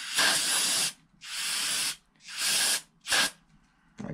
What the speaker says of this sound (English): once you got this carb cleaner, you can spray it out